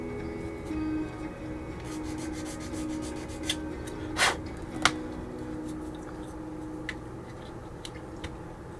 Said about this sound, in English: Let's chamfer that hole.